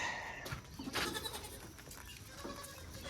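Baby goats bleating in a farm pen, several short wavering cries scattered across the moment at close range, with steady background noise and no clear talk.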